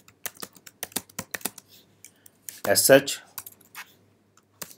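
Keys clatter on a computer keyboard as a crontab entry is typed, with quick irregular taps close to the mic and a brief hiss of speech partway through.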